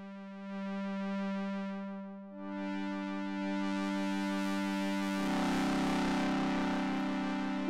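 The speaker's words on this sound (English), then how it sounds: "I use the Overdrive Distortion to create warmth" Synthesizer tone run through Logic's Overdrive Distortion effect, sustained held notes that thicken and grow brighter and grittier as more harmonics pile in, loud and alone with no talking.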